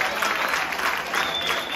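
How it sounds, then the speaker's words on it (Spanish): An audience applauds at a live comedy show, dense steady clapping from a crowd close by that holds at an even level for a couple of seconds; no one talks. "un aplauso a Alfonso Palmieri"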